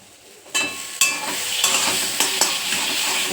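Black cumin seeds sizzle in hot oil, starting abruptly and crackling loudly and steadily close by, with several sharp scraping stirs of a utensil against the pan.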